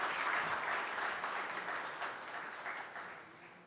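Steady audience applause for a speaker at an ICAI professional ethics session, a dense wash of many hands clapping at moderate distance, slowly fading toward the end.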